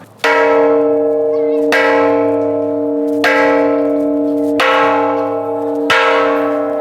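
An old Thai temple bell, dating from the reign of King Rama V, is struck five times at steady intervals. Each loud, bright clang leaves a long ringing hum that carries into the next strike, with no talk over it.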